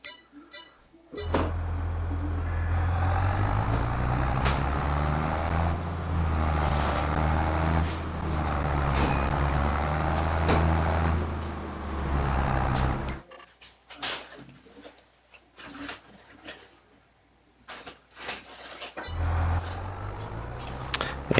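A truck in Farming Simulator 22 drives with a low, steady engine drone for most of the run, then cuts out into sparse clicks and clunks before the engine briefly resumes.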